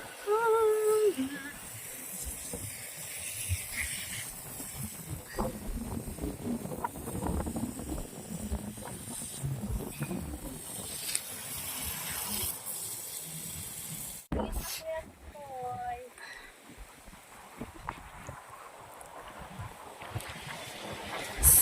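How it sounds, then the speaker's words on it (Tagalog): Strong wind buffets the microphone outdoors in a garden, a continuous broadband roar and rumble lasting throughout, with a brief sharp dropout midway and voices faintly under the noise. "Sobrang hangin."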